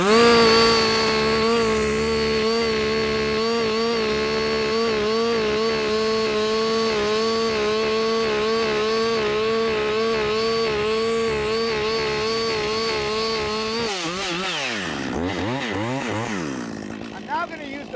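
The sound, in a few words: chainsaw cutting into a tree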